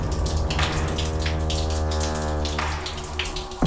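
Water trickling and spattering from a stream flowing over a Shiva lingam in a rock temple, a steady close gush with a bright falling splash, no voices.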